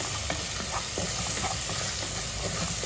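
Masala for Mangalorean clam sukka fries in a pan with a steady, close sizzle and faint stirring scrapes throughout, with no talking.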